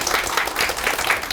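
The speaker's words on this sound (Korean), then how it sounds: "박수 쳐주십시오." An audience at a lifelong-education policy forum breaks into brief, dense applause, many hands clapping together at close range for a moment.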